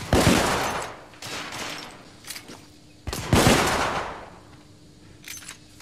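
Gunfire from the video game The Order: 1886 comes in loud, close bursts of rapid automatic shots with brief gaps between volleys.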